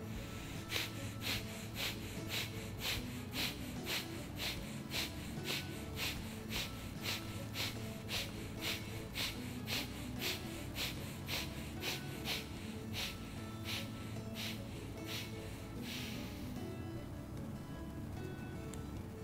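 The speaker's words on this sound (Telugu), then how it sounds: "ఇప్పుడు మనం భస్త్రికా ప్రాణాయామం చేయబోతున్నాము" Forceful bhastrika pranayama yoga breathing, a steady run of rapid, evenly spaced sharp breaths pumping in and out close up for most of the stretch, then easing off near the end.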